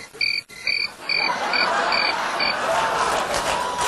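Crickets chirp in pulsed trills after a White House speech: several bright, evenly spaced bursts over a steady hiss of ambient noise, fairly close and with no voices.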